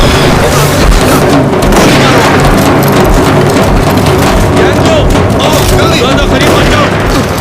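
Loud, dense battle din from a dubbed Korean monster film scene, continuous booms and rapid gunfire crackling throughout under shouted Hindi dialogue.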